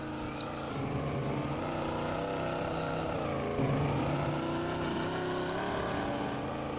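A Plymouth Fury car engine strains in the video game SpinTires, a loud, continuous droning roar with shifting pitch that holds for several seconds, close and steady, with no talk.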